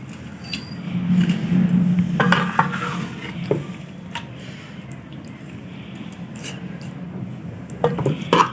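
Beef stew with whole spices is ladled out of a pot, with a ladle scraping and clinking against the metal in short irregular strokes over a low hum, a busier stretch early on, then quieter taps.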